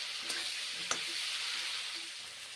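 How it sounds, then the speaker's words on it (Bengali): Pointed gourd fries in mustard oil with a soft, even sizzle and two quick clicks of stirring, close by and with no one talking. "সর্ষের তেল দিয়েছি ভেজে নিচ্ছি ভালো করে ভেজে নেব এখন"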